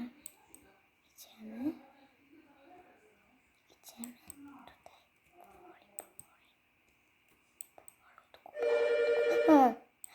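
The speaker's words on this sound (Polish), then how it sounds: "znaczy telefon dzwonił" A telephone rings near the end of a Rainbow Friends gaming session, a loud rapid ringing burst lasting about a second after stretches of whispered talk and faint clicks.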